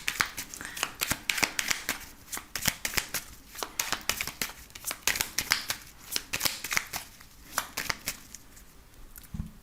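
Close, steady shuffling of a deck of Béline oracle cards by hand, a continuous series of quick papery riffles and taps in an even rhythm with no talking over it.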